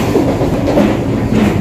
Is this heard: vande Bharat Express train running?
yes